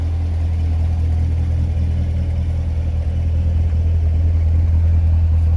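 A car engine idles with a deep, steady exhaust rumble, loud and close for the whole stretch, on a car fitted with carbon fiber add-ons and LED tail lights.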